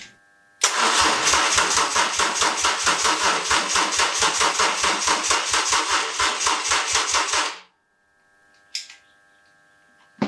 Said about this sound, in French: Seule méthode pour faire tourner le moteur, alimenter directement le démarreur.